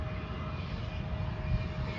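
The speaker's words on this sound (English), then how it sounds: "the baby CRJ, the Challenger" Bombardier CRJ 200 Challenger jet at Cleveland on a foggy evening, a steady, fairly faint engine drone with a tonal whine, heard alone without voices.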